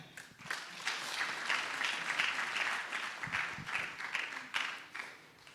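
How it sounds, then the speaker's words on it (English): A church congregation claps for a guest speaker being welcomed to the front, steady dense applause from a crowd filling the room for several seconds with a few sharper claps standing out near the end. "So I want to invite her for about 3 to 5 minutes. Please clap for her."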